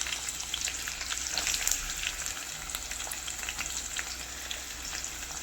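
Chopped onions and curry leaves frying in hot oil with cumin and mustard seeds, a steady close crackling sizzle with fine popping and faint stirring that carries on with no pause.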